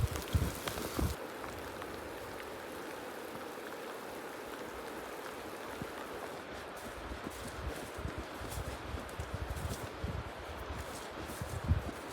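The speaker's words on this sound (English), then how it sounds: "right on cue, some rain." Soft, steady rain patters on leaves and the ground outdoors in the Pecos Wilderness by a cabin, a continuous gentle hiss with occasional heavier drops.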